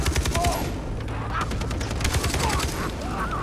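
Rapid automatic gunfire in Far Cry 3 rattles in a steady fusillade of close, loud shots lasting a few seconds, with a voice briefly heard over it.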